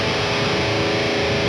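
An electric guitar plays through an MLC S_Zero 93 distortion pedal in Schottky mode with the level turned down, giving one loud, sustained, buzzing distorted chord that rings steadily for a moment.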